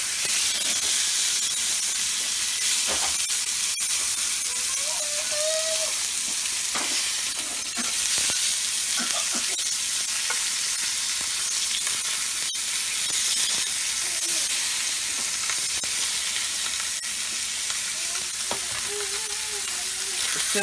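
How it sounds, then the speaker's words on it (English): A beef cut seared in a cast iron pan, hissing with a loud, constant sizzle up close, with faint occasional scrapes and taps as the meat is turned. "So as soon as it's seared all the way around and on both sides, top and bottom and both ends"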